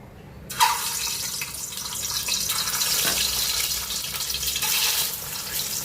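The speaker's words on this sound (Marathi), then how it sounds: "आता मी त्याच्यामध्ये तेल टाकलेलं आहे अंडी फ्राय करण्यासाठी. तर आपण ते अंडी फ्राय करून घेऊया." Eggs hitting hot oil in a pan for egg biryani: a sudden sharp sizzle erupts and carries on as a steady, loud frying hiss with slight swells.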